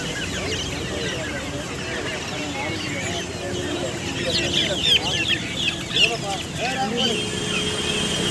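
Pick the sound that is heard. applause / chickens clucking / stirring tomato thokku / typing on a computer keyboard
chickens clucking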